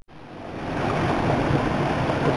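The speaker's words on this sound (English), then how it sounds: "This is the area called the waterfall, for the obvious cascading waterfall." A cascading waterfall runs over a hard clay creek bottom on the Manistee River in October, a steady close rush of broadband water noise that swells in over a couple of seconds and then holds constant, with no voices.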